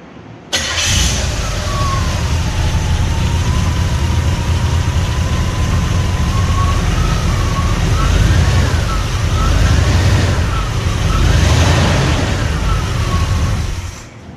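A Chevrolet El Camino parts car cranks and starts, then settles into a steady mid-pitched running idle, close and loud throughout, with a faint whistling tone wavering above the engine.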